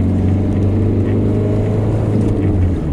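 A Volvo car drives along, its engine and road noise forming a loud, steady low drone that stays continuous for the whole stretch with no gaps.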